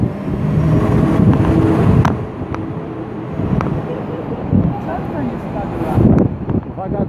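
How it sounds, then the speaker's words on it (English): Strong wind buffets the microphone on the open top deck of a double-decker sightseeing bus in Toronto, a loud, steady roar with traffic and engine rumble beneath and brief voices breaking through. "It's going to get a bit windy."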